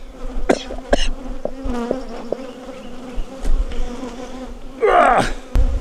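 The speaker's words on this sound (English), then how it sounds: "you can probably hear the bees attacking my veil" Angry honeybees from a hot, defensive hive buzz loudly and close around a beekeeper's veil during a farmyard hive inspection, with sharp taps and surges of buzzing as insects strike the mesh.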